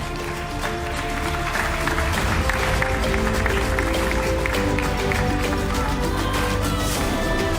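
An assembly audience at a football confederation's general assembly in Kinshasa claps hands in steady, dense applause that holds for the whole stretch, with a sustained tonal hum running underneath.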